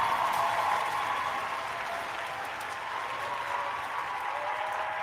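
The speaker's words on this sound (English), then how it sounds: "a round of applause for fishing" A steady wash of applause, even and moderately loud, sustained for several seconds without standout individual claps or voices.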